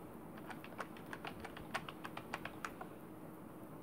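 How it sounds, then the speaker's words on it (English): Someone types a mobile number on a computer keyboard: a quiet run of light, evenly spaced key clicks, close and soft, with no talking. "Here suppose I type my mobile number."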